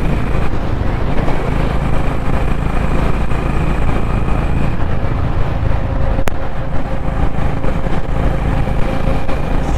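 A Honda CB 350 Highness motorcycle cruising on a highway on a long ride, with a steady, loud engine drone and heavy wind rush that continue unbroken throughout.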